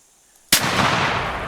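A single sharp rifle shot rings out while hunting rabbits and red foxes in theHunter Classic, a sudden loud crack followed by a long, rolling echo that slowly fades.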